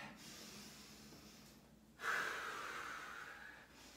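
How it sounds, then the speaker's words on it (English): Two deep inhalations close to the mic at the end of a full-body, no-equipment HIIT workout; a faint breath, a pause, then a long, loud drawn-in breath that slowly tapers, with no talking. "Take it down, two big deep breaths in."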